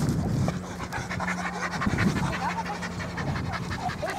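Dogs pant rapidly and steadily at close range outdoors in spring, a continuous breathy rhythm with faint background noise and a little muffled voice.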